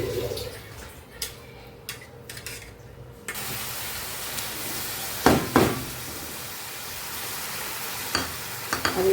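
Ground chilli, cumin and ginger paste with salt is added to a hot pan for a stuffed potato dum, giving a steady close sizzle with a couple of sharp stirring scrapes midway and no talk.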